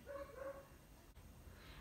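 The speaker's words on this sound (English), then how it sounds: "Oh my god, these dogs." Dogs bark faintly in the background, a couple of short muffled yaps early on, then quieter, distant noise with no talking.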